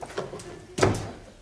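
An office door swings shut with a single firm thud after some faint shuffling, heard close by and alone, with no talking over it.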